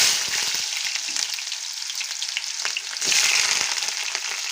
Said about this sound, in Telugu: ఆయిల్ కాగిపోయిందండి, ఉల్లిపాయలు వేసేసుకుందాం